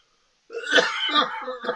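A single rough, throaty cough-like hack bursts out after a moment of silence, close and fairly loud, trailing off in a raspy rumble.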